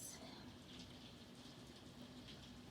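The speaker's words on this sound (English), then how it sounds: "I love the sound of the falling rain" Steady falling rain makes a soft, even hiss outside a house, faint and distant, with possible faint bird cooing in the background.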